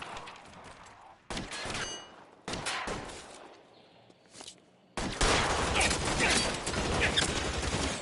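Video game gunfire in irregular bursts, sharp loud volleys separated by quieter gaps, ending in a long heavy stretch of continuous shooting.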